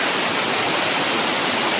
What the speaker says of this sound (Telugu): అక్కడ వాటర్ ఫాల్స్ కనబడుతుందిగా